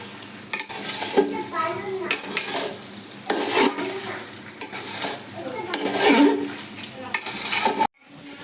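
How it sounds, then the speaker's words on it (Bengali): Rice fries and sizzles in a pan while a spoon stirs it in repeated scraping strokes, loud and close. It ends with a sudden cut near the close. "এই চালটাকে আমি এবার ভেজে নেব।"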